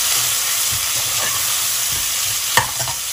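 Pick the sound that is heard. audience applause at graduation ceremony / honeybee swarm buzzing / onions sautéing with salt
onions sautéing with salt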